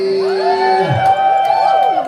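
An audience at a live Otherworld Theatre competition cheers and whoops for a contestant, a loud close burst of mixed shouting voices that holds steadily throughout.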